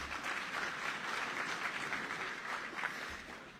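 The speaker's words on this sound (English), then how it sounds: "So I guess another round of applause for going over time." Steady, dense applause fills a hall at an annual justice-support gala, the crowd clapping together at a moderate distance without a break.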